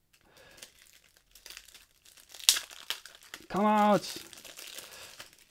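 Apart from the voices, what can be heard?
Magic: The Gathering booster pack wrapper being torn open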